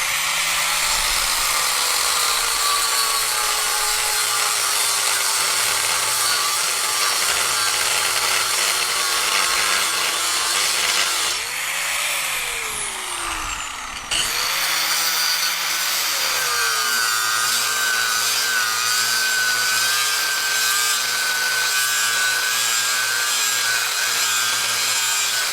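A power cutter grinds a part off a car from the outside, a steady, loud, high whine that runs continuously for about twenty-five seconds, briefly dipping and changing pitch midway before settling back, with no talking.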